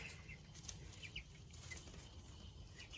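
Meat bird chicks in a chicken coop at four weeks old cluck and peep softly, with a light wing flutter, over a steady low hum of coop heaters throughout.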